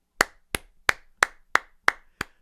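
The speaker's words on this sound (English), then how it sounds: "That's a round of applause for me." A run of seven crisp hand claps, evenly spaced and close, each sharp and loud with a quick decay, with no voices or other sound between them.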